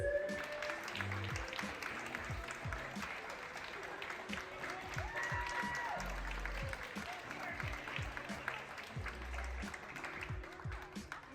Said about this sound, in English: give you a round of applause for your achievements